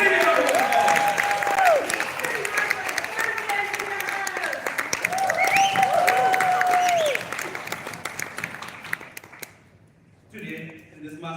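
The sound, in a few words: audience applause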